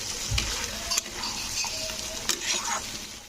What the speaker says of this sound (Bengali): মশলাটা দিয়ে এবার এটাকে হালকাভাবে একটু নাড়তে হবে তো এই বেগুনের সঙ্গে একটুখানি কষে নিতে হবে